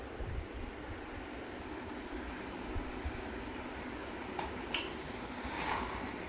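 A toy train runs along its track with a faint, steady mechanical rumble and whir, broken by a few light clicks and taps. No voices are heard.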